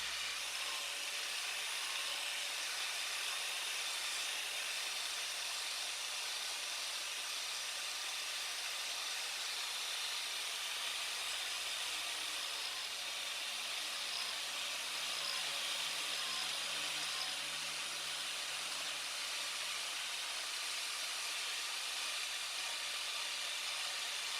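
An angle grinder carves a smooth transition where a wooden guitar neck meets the body on a custom build, a steady hissing whine held evenly for the whole stretch, close and unbroken, with no voices.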